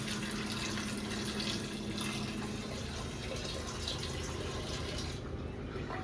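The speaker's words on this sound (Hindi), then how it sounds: "और अम्मी और शामिल कर रही हैं पानी।" Water pours steadily and splashes into a cooking pot for mutton biryani, a continuous close gurgling rush that thins out just before the end.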